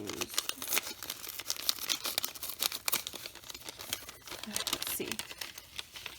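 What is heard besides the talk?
taped paper gift bag being opened, paper crinkling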